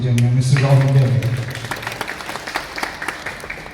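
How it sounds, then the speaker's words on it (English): An audience at a university sculpture exhibition breaks into a round of applause as a voice fades out, the clapping continuing as scattered, thinning claps. "Huge round of applause, ladies and gentlemen"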